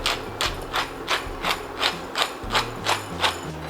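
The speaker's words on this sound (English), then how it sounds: "I'm gonna ground some fresh black pepper in here" Fresh black pepper ground in a hand mill over tripe for a Jamaican curry: about ten evenly spaced gritty ratcheting crunches, close and fairly loud, with no talk.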